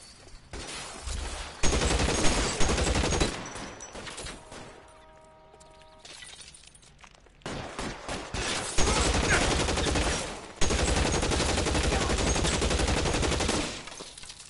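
Sustained gunfire from a shootout in the video game L.A. Noire, with dense bursts of shots and machine-gun fire loud across most of the stretch, easing briefly in the middle before heavy firing resumes.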